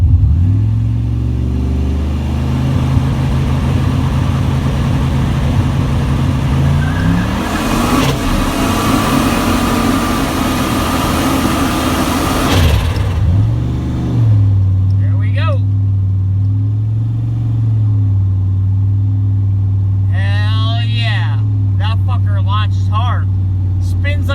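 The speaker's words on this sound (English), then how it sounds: "We're gonna hit the rev limiter and we're gonna launch it." A car engine fitted with a transbrake and bump button holds at the rev limiter with a loud stuttering drone, surges higher, then drops to a lower idle-like rumble as a voice speaks over it near the end.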